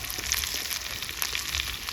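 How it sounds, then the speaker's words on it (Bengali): Rice, potato and a fish head fry together with spices in a pan for muri ghonto, giving a soft, continuous sizzle with faint stirring and no talk. "সব কিছু একসঙ্গে কিছুক্ষণ সময় ভেজে নিলাম"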